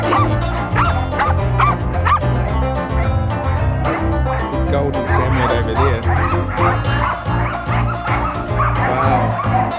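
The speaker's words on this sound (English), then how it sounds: "They're just going mental." Many dogs bark, yip and whimper excitedly at once in a loud, crowded kennel-like din at a dog-filled stop on a New Zealand road trip, with people talking underneath.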